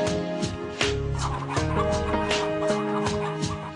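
Free-range desi chickens in Dera Ghazi Khan cluck and squawk loudly in repeated bursts, several birds overlapping close by with no voices.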